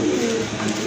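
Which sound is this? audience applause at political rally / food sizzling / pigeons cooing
pigeons cooing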